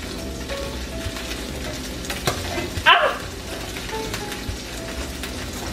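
Birria taco tortillas frying in a pan after flipping, a steady close sizzle and crackle of oil with a brief louder spatter midway.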